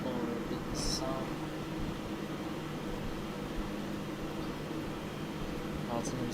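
Steady cabin ambience aboard an Airbus A330-300 airliner in the X-Plane 12 flight simulator, a constant broadband engine and air-conditioning hum with a faint chime-like tone near the start and again at the end.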